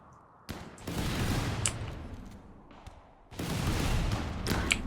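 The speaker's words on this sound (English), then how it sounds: "It's just the sound the lightning weapons make, huh? They just explode." Lightning weapons explode in the modded RimWorld video game, heard as two long bursts of rapid, crackling blasts separated by a short lull, at moderate volume.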